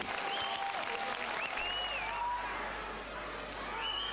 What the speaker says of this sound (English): Now Kaiho getting a big applause there.